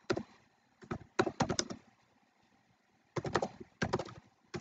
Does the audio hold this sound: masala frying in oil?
no